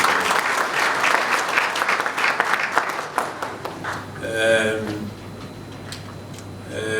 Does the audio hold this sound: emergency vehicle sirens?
no